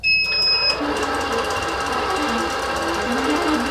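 A longarm quilting machine stitches out a meandering jasmine pantograph row, a fast steady mechanical whir and patter running continuously after a short electronic beep at the start.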